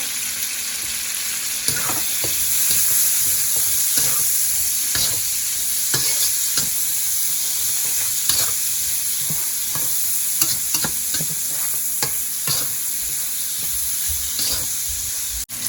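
Sliced onions sauté with a little salt in a pan for a black pepper crab dish, a loud, constant sizzle broken by sharp, regular spatula scrapes and clacks, heard up close without any voices.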